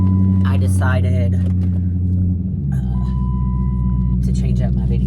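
Low, steady engine and road rumble inside a moving car, droning continuously under someone talking throughout.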